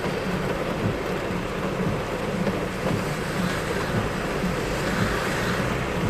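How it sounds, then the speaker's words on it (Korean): Heavy night rain during a thunderstorm in Seoul under a heavy rain advisory, a dense, steady roar of downpour with low rumbling mixed in, continuous and loud throughout. "지금 보셨죠? 번개가 번쩍번쩍하고 있습니다"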